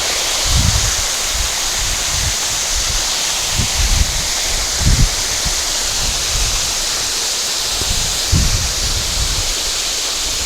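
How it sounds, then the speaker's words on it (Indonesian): Wind moves through tree leaves on a mountain slope, a steady broad rushing hiss with soft gusts and low rumbles rising and falling throughout. "pohonnya goyang-goyang kena angin."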